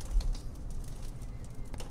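A bird stuck in a garbage disposal in the Deponia video game gives soft, low cooing calls, repeated and fairly close, over a faint steady background.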